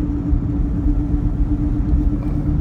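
A Pontiac Grand Prix GXP with a worn wheel bearing drives along, giving a steady low rumble and road drone with a faint hum, continuous and close.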